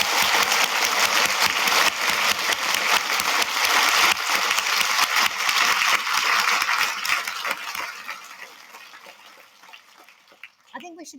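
Graduation ceremony crowd for the Class of 2023 applauding graduating students, a dense sustained round of clapping from a large hall audience that gradually thins and tails off into a few scattered claps.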